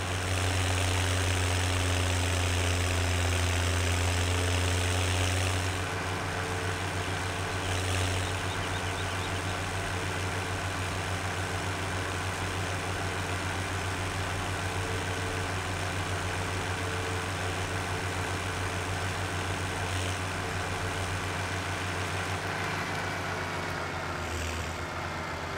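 Tractor engine running in the farming video game Farming Simulator 17, a steady droning hum with a strong low tone that shifts slightly lower partway through and continues evenly throughout, with no voices.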